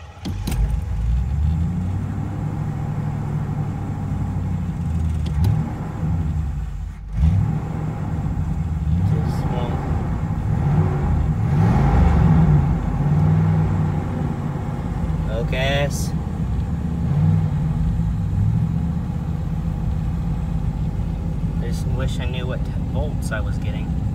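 A 1982 Pontiac Trans Am engine cranks, catches, and settles into a rough, uneven idle with a steady low rumble and occasional surges, while someone talks over it.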